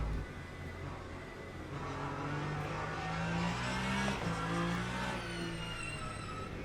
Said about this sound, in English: Sounds good, that Mustang does.